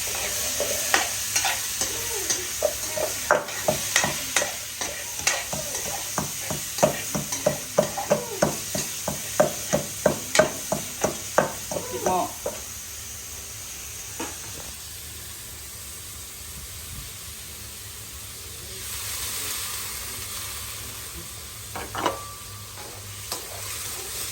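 Food being dry-roasted and stirred in a pan, rhythmic scraping strokes of a spatula over a loud sizzle for about twelve seconds, then a quieter steady hiss with a few scattered clinks.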